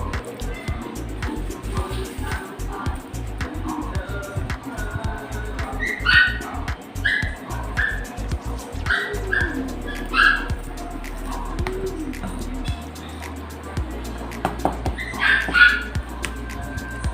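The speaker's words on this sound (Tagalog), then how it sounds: "Habang tumatahol ang aso" A dog barks and yips repeatedly in short bursts over a busy background of voices and music, with a few whimpering notes mixed in.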